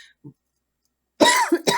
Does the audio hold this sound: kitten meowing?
no